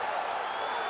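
Crowd roaring in a UFC 5 video game arena after a grueling ground exchange, a steady, dense wash of cheering that holds loud and even for a second.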